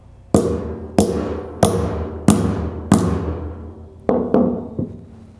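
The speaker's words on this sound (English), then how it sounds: "Tap the bushing in straight." Sharp metallic taps ring out as a 10mm socket drives a bushing into a Crank Brothers bicycle pedal body, five evenly spaced blows followed by a few lighter, quicker taps, close and clear.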